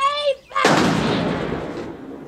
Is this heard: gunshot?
yes